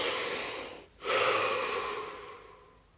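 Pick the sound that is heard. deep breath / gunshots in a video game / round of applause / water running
deep breath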